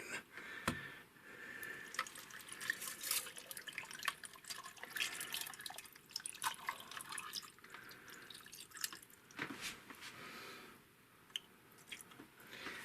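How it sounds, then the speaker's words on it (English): Cool water is poured into a Stanley Admirals mug packed with ice, a quiet, steady trickle with faint drips and occasional ice clinks close by. "let me get my water."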